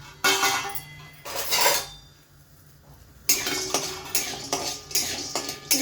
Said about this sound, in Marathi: आपण आता त्याच्यामध्ये शेंगदाणे घालून घेऊया गरम तेलामध्ये आणि हलवून घेऊया